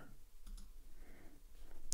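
A computer mouse clicks a couple of times in a quiet room, the brief, faint clicks standing apart from soft background noise, with a sharper click at the very end.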